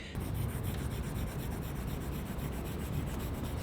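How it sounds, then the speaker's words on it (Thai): A stylus scratches across an iPad fitted with a paper-like screen protector, a close, continuous dry rasping much like pencil on paper, quiet and steady with no talking. "มันมีเสียงเหมือนกับว่าเรากำลังเขียนบนกระดาษด้วย"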